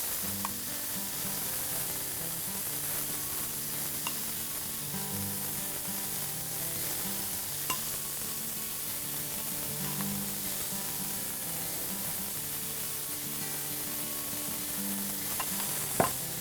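Beef burger patties for a copycat bacon cheeseburger fry on a hot cooking surface with a steady, dense sizzle that runs unbroken throughout, with a few faint clicks on top.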